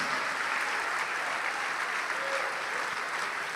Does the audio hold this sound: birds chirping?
no